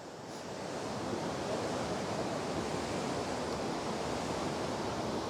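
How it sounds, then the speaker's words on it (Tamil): Mountain water tumbling past a hillside temple makes a continuous, even hiss and roar that swells slightly at the start and then holds steady, with no voices. "உண்மையிலேயே தண்ணி சத்தம் மட்டும் தான் கேட்குது"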